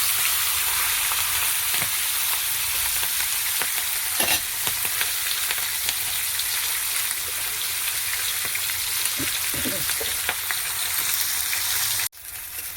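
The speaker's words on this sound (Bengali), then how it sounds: "তেলটা গরম হয়ে গেছে, মাছের মাথা তুলে দিচ্ছি, ভালো করে ভেজে নেব।" A fish head frying in hot oil crackles and sizzles continuously at close range, with scattered sharp pops and spatters before cutting off near the end.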